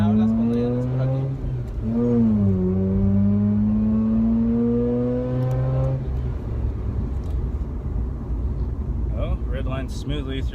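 A 131k-mile Mazda RX-8 R3 rotary engine revs up, its loud tone climbing steadily for several seconds toward redline before cutting back to a rumbling cruise.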